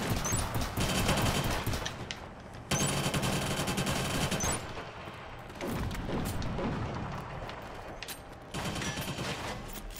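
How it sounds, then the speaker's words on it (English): Continuous automatic gunfire from a Killzone Shadow Fall team deathmatch, dense rattling bursts and booms that fill the whole stretch with only brief breaks between volleys. "Someone shooting at me?"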